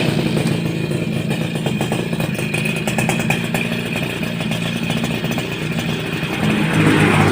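A Suzuki RC100 motorcycle engine runs close by with a rapid, rattling single-cylinder putter that holds steady idle before rising slightly louder near the end.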